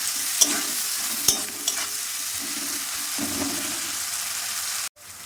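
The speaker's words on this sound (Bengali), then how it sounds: "পেঁয়াজ নরমের জন্য আমি স্বাদ মতো নুন দিলাম, দিয়ে নেড়ে দিলাম।" Onions with salt sizzling in a pan as they are stirred, a soft continuous fry with a few sharp utensil clicks and scrapes, then a sudden drop to near silence at the end.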